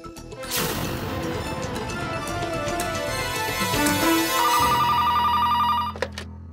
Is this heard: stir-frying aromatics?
no